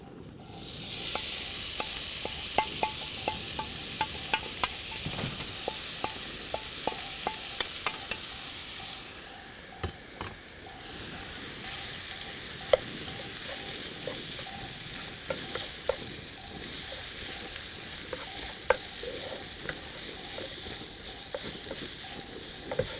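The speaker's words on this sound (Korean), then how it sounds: "달군 후라이팬에 식용유를 두르고 죽순을 넣고 볶도록 하겠습니다" Bamboo shoots stir-fry in a heated pan greased with cooking oil, giving a continuous bright sizzle with frequent clicks and scrapes of stirring that briefly fade before resuming.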